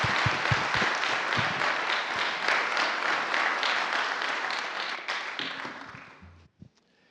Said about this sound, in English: can we give one more round of applause to our elected leaders for joining us?